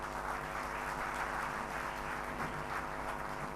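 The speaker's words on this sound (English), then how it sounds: "This technical acumen surely deserves a huge round of applause." A round of applause from guests at a scholarship award ceremony, dense even clapping with a faint tonal hum beneath, no speech.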